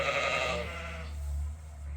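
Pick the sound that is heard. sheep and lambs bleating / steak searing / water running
sheep and lambs bleating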